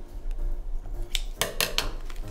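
Scissors snip the corner off a Ziploc bag filled with melted white chocolate during holiday cookie bar prep, a few quick, sharp close cuts among light kitchen clatter.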